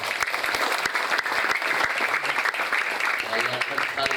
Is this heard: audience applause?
yes